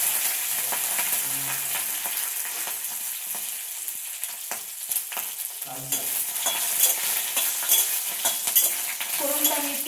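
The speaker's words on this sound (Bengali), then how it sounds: "ফোড়নটা আমি একটু ভেজে নেব।" Cumin seeds, green chilies and bay leaves fry in white oil with a bright, steady sizzle and hiss, broken by light scraping and clinking of a spatula stirring in the pan.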